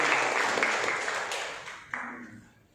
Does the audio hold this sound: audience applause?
yes